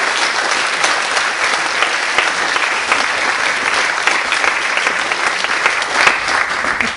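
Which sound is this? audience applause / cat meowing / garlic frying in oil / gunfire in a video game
audience applause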